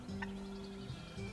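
A wild turkey in a Missouri field gives one clear, fairly distant gobble, a quick rattling call that stands out against a quiet outdoor background.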